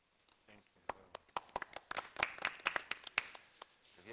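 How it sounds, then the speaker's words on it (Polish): A small audience claps in a Polish television studio after a performance, faint and scattered at first, then growing into a brief round of individual, distinctly separate claps. "Wielkie brawa, księże Ryszardzie."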